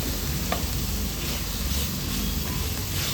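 Roasted semolina and grated watermelon stirred in a pan give a steady, loud sizzling hiss with faint scraping throughout, and no one talks.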